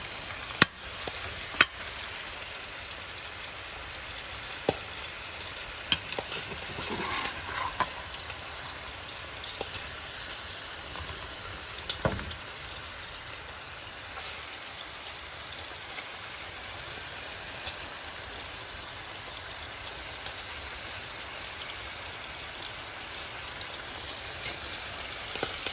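Cube steak and onions fry in a pan with a soft, crackling sizzle throughout, scattered small pops and occasional clicks of the utensil. No one speaks.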